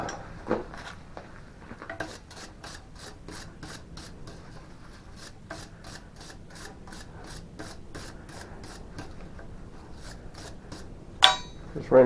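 Steel bar is worked by hand with a twisting wrench, producing a rapid, regular series of scraping, ratcheting strokes, fairly close, ending with a couple of sharper metallic clanks.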